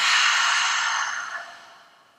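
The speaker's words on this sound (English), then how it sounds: "breathing in through the nose and exhaling through the mouth" A deep, breathy exhale through the mouth during a yoga breathing exercise, loud and close at first, then fading smoothly over about two seconds.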